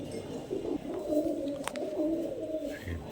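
Jira Saharanpuri pigeons coo softly nearby, low rolling calls repeating in overlapping phrases at a quiet level, with a couple of faint chirps.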